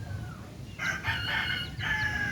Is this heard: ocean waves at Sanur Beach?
no